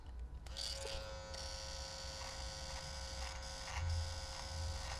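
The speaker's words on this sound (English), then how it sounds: "Side of the clipper kind of helps when you're doing this." Electric clipper buzzing steadily while trimming and shaping a mustache, a close, continuous whine with slight changes in pitch as the blade works along the edges.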